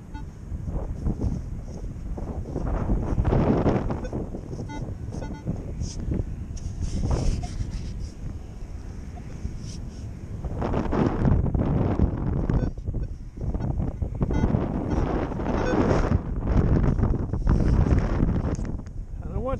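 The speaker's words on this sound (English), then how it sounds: "the damn wind is picking up" Gusty wind outdoors buffets the microphone with steady low rumbling noise through a metal-detecting outing, swelling in stronger bursts in the second half.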